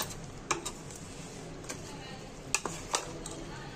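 Chicken being mixed by hand in a bowl with white vinegar and a spice paste, soft wet squelching and stirring with a few sharp clinks of a spoon against the bowl, close and quiet, a voice speaking over it.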